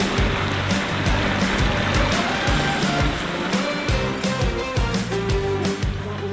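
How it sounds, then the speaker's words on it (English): Water from a pond biofalls feature runs in a steady, continuous rush and splash, close and unbroken, with a faint voice briefly in the background. "I hear the biofalls filling up."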